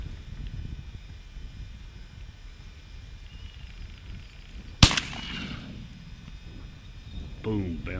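A single sharp shotgun blast rings out on a duck hunt in Argentina, loud and near against steady wind noise, followed by a brief rustle.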